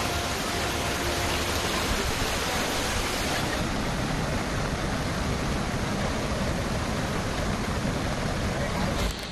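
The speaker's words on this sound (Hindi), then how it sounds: "कहीं सैलाब का शोर है," Floodwater rushes through a flooded city after heavy rain in Madhya Pradesh, a steady, loud broadband roar like a torrent that runs unbroken throughout.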